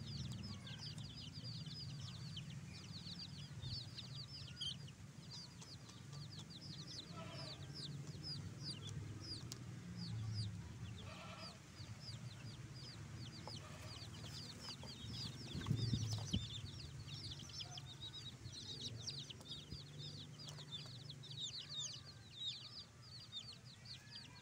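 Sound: chickens clucking

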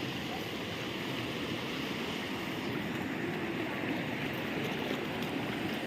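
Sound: river water flowing during a crossing

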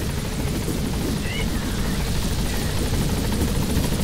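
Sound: helicopter in video game Metal Gear Solid V

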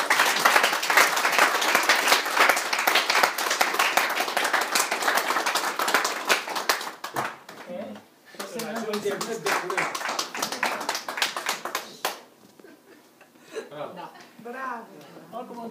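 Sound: audience applause at award ceremony

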